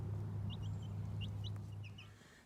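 Young chickens cheep and cluck softly as they explore a chicken-wire enclosure in a garage, with several short high calls scattered over a steady low hum.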